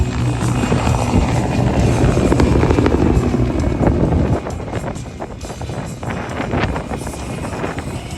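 Aerobatic helicopter with twin Klimov GTD 350 turboshaft engines at full power during an air show display, a loud, close rotor and turbine roar with heavy wind buffeting that eases a little midway through.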